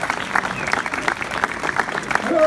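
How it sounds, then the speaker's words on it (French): A crowd bursts into clapping, dense and steady applause that swells slightly toward the end. "Sous vos applaudissements"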